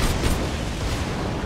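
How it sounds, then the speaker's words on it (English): Grenade blast in the Borderlands video game, a loud, dense burst of booming noise that fills the whole short moment with roughly constant rumble, no talk over it. "What is that grenade? That's not the regular grenade."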